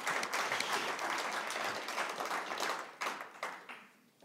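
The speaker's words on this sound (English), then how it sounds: "Deserves an applause." Audience applause at a readers and writers festival talk, dense and steady clapping from a crowd that thins out toward the end.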